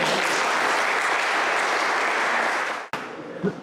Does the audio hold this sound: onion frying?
no